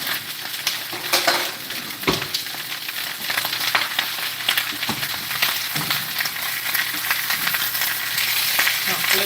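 Bok choy and garlic fry in a hot pan with a loud, steady sizzle and crackle, plus occasional scrapes and clinks of a utensil against the pan. It is close up, with no talking.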